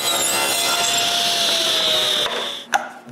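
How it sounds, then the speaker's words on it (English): Power saw cutting small wood strips in a workshop, a loud sustained whine that stops abruptly, followed by a sharp knock and a quieter hum as the blade winds down. "Next, I cut several small strips, so I'll be able to make some tongues and grooves."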